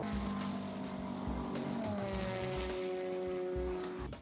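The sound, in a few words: race cars driving on the Spa circuit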